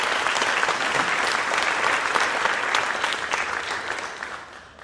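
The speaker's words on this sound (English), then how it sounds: "Another round of applause." Audience applause for retirees at a school board meeting, a steady full round of clapping from the room that gradually tapers off over about five seconds.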